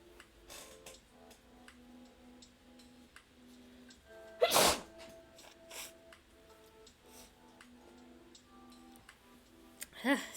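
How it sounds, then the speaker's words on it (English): A single sharp sneeze bursts out midway over quiet background ticking and faint music, followed by a shorter breathy sound near the end. "I need to sneeze."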